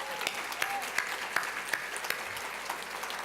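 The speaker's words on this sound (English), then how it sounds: "Let's give yourselves a round of applause." A luncheon crowd applauding itself at a charity event, giving a moderate, somewhat distant patter of many hands with a few sharper individual claps, and a faint tone underneath.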